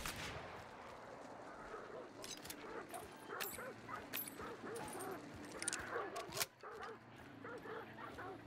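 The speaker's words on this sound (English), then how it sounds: "Dogs from the right side" Dogs in the video game Hunt: Showdown bark and yip in a rapid, irregular series amid gunfire-like cracks and game noise, moderately loud and fairly close.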